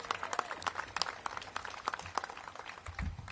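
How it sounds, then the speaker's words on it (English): Scattered applause from an outdoor crowd at a city pool ribbon-cutting ceremony, moderately distant clapping of uneven density with faint background noise and no clear voices. "One more round of applause for our incredible Commissioner"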